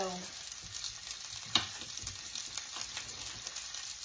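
Squash cooks in butter or olive oil in a pan, a soft close sizzle with light stirring and one sharp clink partway through, no talking.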